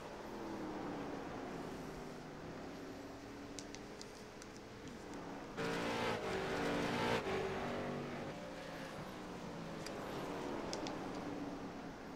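Late model race cars lapping at Stafford Motor Speedway, a steady engine roar at a distance with a swell as a car passes closer midway, then fading back to the continuous field drone.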